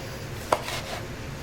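One knife chop cuts through Boca veggie burgers on a cutting board: a single crisp knock near the start, followed by quiet kitchen room tone.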